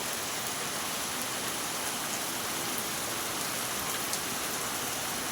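Steady rain pours down continuously on a day mixing sunshine, wind and rain, a dense even hiss of drops on surfaces with no voices.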